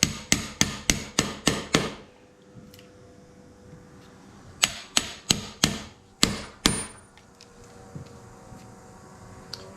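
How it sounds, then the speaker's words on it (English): A chisel is hammered into soft, punky wood: a rapid run of seven sharp, close strikes, a pause, then two more clusters of evenly spaced blows, each with a short ringing decay. "I'm just gonna chisel down here a little bit."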